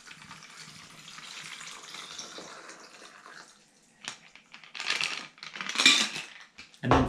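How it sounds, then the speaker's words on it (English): A sweet lime cocktail poured over crushed ice, giving a soft gurgling splash with scattered icy clicks and rattles that grow louder in short bursts toward the end, with no talking. "Pour it over crushed ice."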